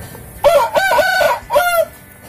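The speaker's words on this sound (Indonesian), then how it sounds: "Ini ayam ini sangat mengganggu," A rooster crows loudly and close by in a backyard garden where arrowroot is grown, one strong multi-part cock-a-doodle-doo call with a brief pause before its final drawn-out note, heard alone without talk.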